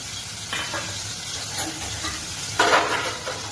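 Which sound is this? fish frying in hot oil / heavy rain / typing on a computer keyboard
fish frying in hot oil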